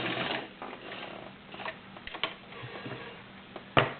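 A vintage Kenmore 85 sewing machine stitches through six layers of Levi's denim, a close, dense mechanical whir with rapid ticking and a sharp knock near the end.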